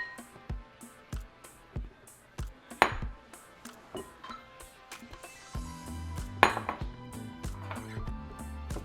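Sugar is stirred into melted butter in a pan for a churro French toast glaze. A utensil clinks and scrapes against the pan in a quick, irregular rhythm of sharp metallic taps, close by.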